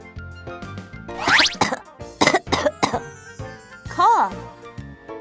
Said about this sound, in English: The sound of coughing.